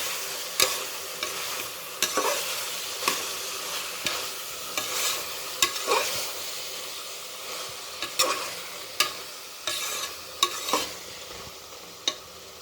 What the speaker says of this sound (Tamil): வதக்கி விடுங்க